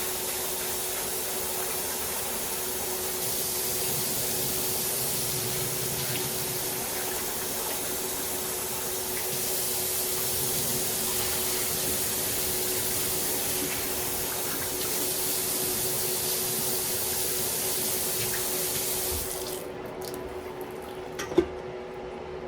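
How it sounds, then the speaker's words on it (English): Running water pours steadily over rice being rinsed, a continuous hissing rush that cuts out near the end, followed by a brief clunk. "I'm just going to give the rice a rinse here."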